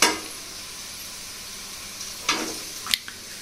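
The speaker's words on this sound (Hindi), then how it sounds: "चलिए मूंग भी हमारा लगभग भुना गया है" Moong lentils roast in a pan for a homemade dalmoth mixture, a faint, steady sizzle broken by a couple of short stirring scrapes.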